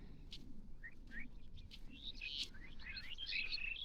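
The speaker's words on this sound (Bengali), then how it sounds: "পাখিগুলো কিচির মিচির করতেছে তার আপন মনে।" Small birds chirp and tweet in a quiet rural village, with scattered high calls coming from several directions at a moderate distance. The calls grow busier toward the end over a faint low rumble, and no voices are heard.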